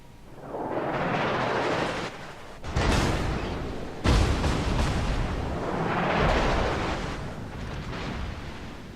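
In World of Warships, the Des Moines heavy cruiser fires its main guns. Deep, rolling booms swell and overlap, with two sharper blasts punching through the sustained rumble.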